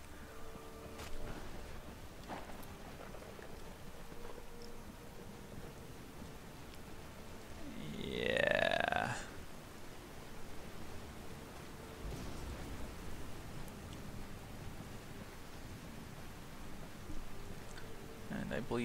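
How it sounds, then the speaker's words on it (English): A Skyrim thunderstorm plays as a soft, continuous rain hiss with low rumbles. About midway a brief swelling, whistling sweep rises above it, and someone talks intermittently over the storm. "Oh, this thunderstorm is exciting."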